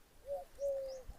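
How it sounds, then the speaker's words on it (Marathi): A bird coos twice outdoors, a short call followed by a longer drawn-out one, fairly soft against a quiet background. "वेगवेगळ्या पक्ष्यांचा ओरडण्याचा आवाज येतो"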